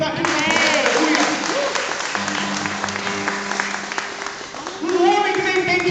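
A church congregation applauds during a Catholic sermon. Dense, sustained clapping runs beneath a preacher's voice and some held sung or spoken tones, and it swells again toward the end.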